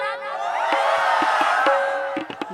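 An audience at an Indian stage show shouts loudly in one sustained collective roar, with scattered sharp claps and cries toward the end.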